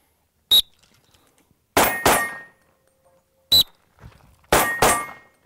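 Pistol shots ringing off a steel target during junior pistol training, two sharp metallic clangs with short decay each followed by paired broadband shot bursts, spaced across several seconds, loud and close with no talk.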